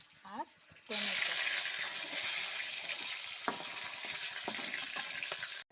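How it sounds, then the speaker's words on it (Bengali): Cauliflower pieces fry in a hot wok with bay leaf, green chili and tomato, giving a loud, steady sizzle with a few scraping stirs, after a short burst of clatter and movement at the start. "প্রথমে কপিগুলো একটু ভেজে নিচ্ছি।"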